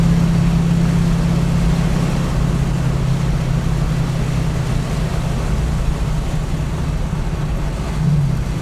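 A 1967 Mustang engine downshifting with heel-toe into a corner, a steady loud drone of engine and road noise with a small blip near the end, heard from inside the car.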